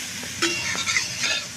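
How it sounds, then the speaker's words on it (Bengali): Cauliflower frying with a little salt in leftover fish-frying oil in a kadai, a steady close sizzle and crackle with brief stirring scrapes, no talk. "অল্প করে নুন দিয়ে ভেজে নেব"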